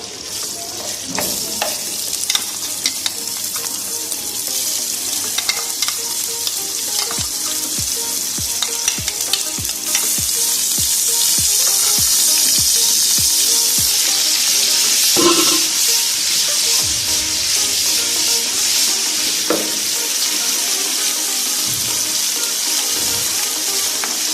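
Ginger garlic paste for desi saag sizzles loudly in hot oil, with repeated stirring scrapes and clinks early on and a steady crackling hiss throughout.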